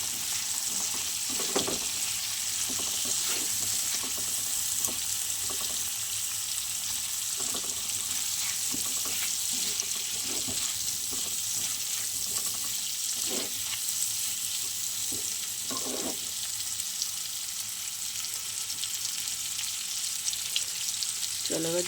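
Spices including radhuni sizzle lightly in hot oil in a home kitchen pan, a steady soft crackle with brief stirring clicks and scrapes throughout, no voices.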